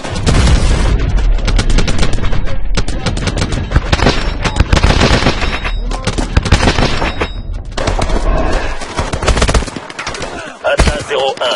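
Sustained, loud video game gunfire from Call of Duty: Advanced Warfare, with rapid automatic bursts and explosions filling the whole stretch, easing briefly near the end.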